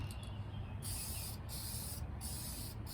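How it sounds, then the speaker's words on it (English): An aerosol paint can hisses in several short bursts, spraying with brief pauses between, close and fairly quiet with no voices. "Both of these new cans had garbage spray tips."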